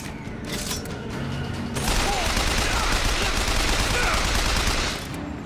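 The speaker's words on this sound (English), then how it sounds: "Ah, there's the turret." Turret gunfire in the video game Bioshock Infinite: a dense, sustained burst of rapid shots that rises suddenly and rolls on for about three seconds before easing off.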